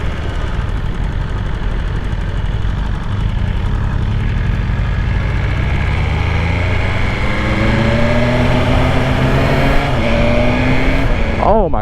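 A 2020 BMW S1000RR's engine and exhaust, heard while riding, hold a loud continuous drone that climbs in pitch as the bike accelerates, ending in a quick rise of revs, with wind rush over it.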